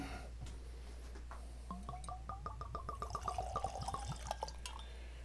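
Jack Daniel's Bonded Tennessee Whiskey, 100 proof, is poured out over flight boards in a quick run of close, bubbly glugs and trickles that speed up and then taper, with no talking.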